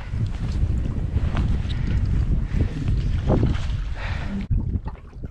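Strong wind roars steadily across an open microphone on Lake Kitkajärvi while boating during net fishing, with water slapping the hull beneath the gusts and a brief dip near the end.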